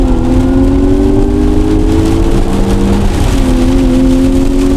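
A 2022 Changan Oshan X5 accelerates in race mode, its engine whine climbing steadily in pitch, dropping once at a gear change, then rising again, heard from inside the car with no talk.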